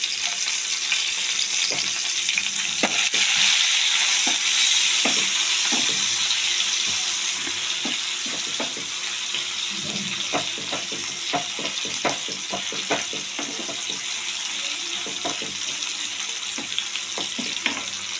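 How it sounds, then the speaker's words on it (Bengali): Whole onions and cut spring onion frying in oil with cumin: a continuous sizzle with repeated taps and scrapes of a stirring spoon, loud and close, with no talking. "জিরেটা পুড়ে উঠলে দিয়ে দেব গোটা পেঁয়াজগুলো, কচি পেঁয়াজের যে কাটা রয়েছে ওটা দিয়ে দিচ্ছি।"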